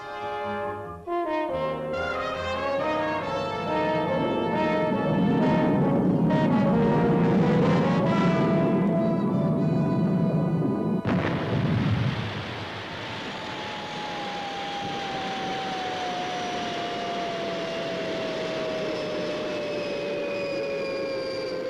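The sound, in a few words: spacecraft Fireball XL5 retro rockets firing for landing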